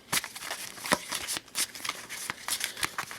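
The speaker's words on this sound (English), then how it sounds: "So I'm giving this a quick shuffle." A deck of playing cards for the Shadows of Brimstone board game is shuffled close up in quick riffles, with sharp, crisp bursts of card flutter repeating at an irregular rhythm and no talking.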